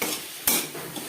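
Bele fish being stirred in a pan with garlic, tomato, turmeric, ginger and green chilli paste, making a quick scrape of the spoon over a faint, low sizzle.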